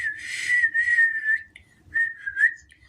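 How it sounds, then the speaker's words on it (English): A person whistles a bright, wavering tune up close, in two phrases separated by a short pause, with no other sounds around it. "I can whistle. There you go."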